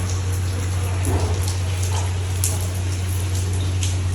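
Steady rain patters down continuously nearby, a dense hiss of drops with a constant low hum underneath.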